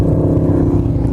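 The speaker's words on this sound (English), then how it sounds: "Hey, look, a motorcycle." A motorcycle rolls past close by, its engine a loud, continuous low drone with a throaty rumble that stays strong through the brief moment.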